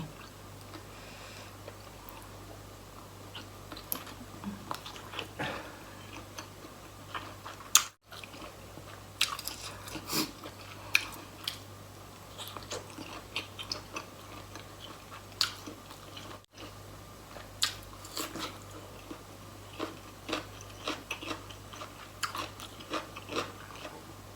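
Someone eating meatballs with dipping sauce up close: soft crunchy bites and moist chewing come in scattered, uneven bursts over a quiet background.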